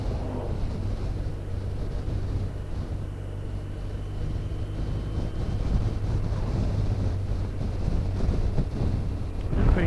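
Steady wind noise buffets the microphone during a motorcycle ride on an open road, a continuous low roar that swells slightly toward the end with no talk over it.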